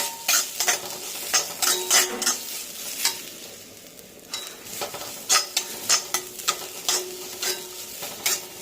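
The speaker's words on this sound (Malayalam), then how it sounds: "തേങ്ങയൊക്കെ തിരുമ്മിയെടുത്ത് കുറച്ച് നീരുന്ന് വറുത്തെടുക്കണം" Grated coconut roasting in a pan, with repeated sharp scraping and stirring strokes over a soft, steady sizzle, close by and irregular in rhythm.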